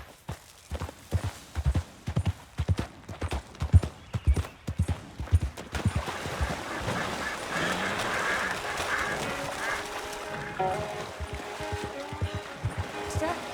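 Horse hooves clip-clopping at a steady walking rhythm during a ride in Red Dead Redemption 2, close and distinct for several seconds before game ambience and music swell over them.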